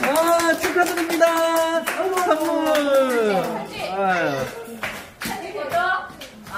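Family clapping at a surprise birthday event, scattered hand claps mixed with lively excited voices, including children, singing and talking over them.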